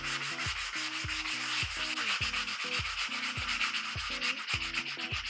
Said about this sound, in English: So I'm gonna try to sand that down so that we don't see that through the finished look.